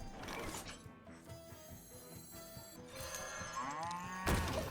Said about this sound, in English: Got a cow out there.